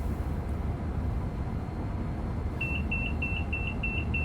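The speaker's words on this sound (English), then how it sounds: "Now we're getting an alarm without flashing." A TASS alarm in a train cab on the West Coast Main Line sounds as a rapid series of repeated high beeps starting midway, over a steady low rumble of the moving train.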